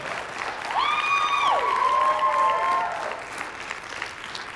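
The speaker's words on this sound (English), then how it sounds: "Can you give a round of applause for all of our amazing acts and also our winners?" An audience at an evening festival show applauds the acts and winners in a steady wash of clapping, with a few whistles and cheers rising over it before the applause thins out.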